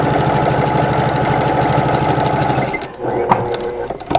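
A sewing machine stitches a rag quilt block in a loud, fast, steady run close by, then stops into a few clicks and fabric-handling noises.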